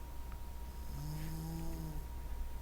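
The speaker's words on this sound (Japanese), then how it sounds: "女の子でいびきかいてるけど別にそれ自体は悪くないけどね" A girl character snores in the horror game Devilry: one drawn-out, low, nasal snore in the middle, soft and close over a steady background hum.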